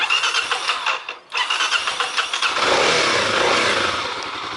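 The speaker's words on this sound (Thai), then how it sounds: "นี่กดสตาร์ทที่รีโมทได้เลยนะครับ" A DTX 250 motorcycle engine is started by remote, a short cranking whir followed by a brief cutout, then catching and settling into a loud, steady idle close by.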